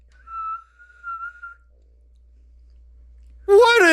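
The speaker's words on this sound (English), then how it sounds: "Is that an inhale whistle?" A person whistles on the inhale, two short breathy tones followed by a longer drawn note, then silence before someone starts talking.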